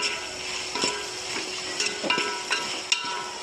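Bombay duck fish mixture sautés in a pan, a continuous sizzle broken by several light scraping and tapping strokes of the spatula.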